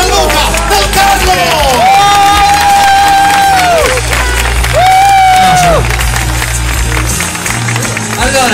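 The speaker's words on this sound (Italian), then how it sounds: "Fatemi sentire l'applauso per il direttore dell'area Music and Cosplay, Gianluca Del Carlo!" A loud crowd cheers and applauds at the Lucca Cosplay 2014 grand finale, with dense clapping and hubbub under amplified stage music carrying sustained tones.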